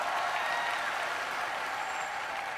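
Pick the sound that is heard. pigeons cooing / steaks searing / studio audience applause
studio audience applause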